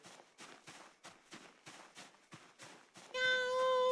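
A cat meows repeatedly in an even rhythm, about seven or eight short calls close by, before a loud tonal hum cuts in at the end.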